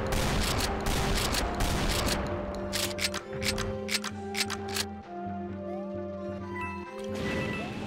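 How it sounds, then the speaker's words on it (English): A cowboy shotgun fires in the Golden Souls 2 Doom mod, with sharp repeated blasts over a loud backdrop of game music and effects, several shots spread across the stretch. "You can see why this cowboy shotgun is my favorite gun in the game."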